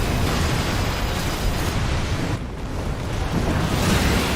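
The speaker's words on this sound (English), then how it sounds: "Forgot about the explosion." A huge explosion in the mech video game Armored Core 6 roars as a broad, sustained rumbling blast, loud and dense, dipping briefly midway before surging again.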